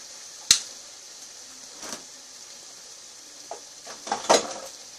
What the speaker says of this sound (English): you're going to fry those up until they firm up a bit